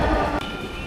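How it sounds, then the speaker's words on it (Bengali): Dhaka metro rail train standing at a station, a loud steady rumble of the rolling stock and machinery filling the short moment with no voices. "আমরা এখন ট্রেনে উঠবো"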